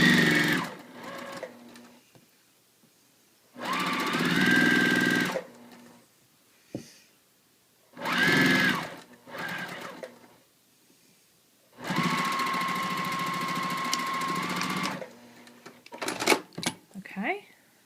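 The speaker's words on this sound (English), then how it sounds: "I'm going to finish sewing all the way around." Sewing machine stitching around a quilt ring in several runs of fast, steady mechanical whirring, loud and close, with short pauses between bursts and a few clicks and clunks toward the end.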